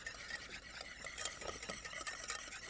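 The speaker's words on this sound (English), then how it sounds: "then you have to beat the yolks first" Egg yolks are beaten by hand in a bowl, a quiet, rapid, steady clicking and swishing of a whisk against the bowl, close and soft with no talking.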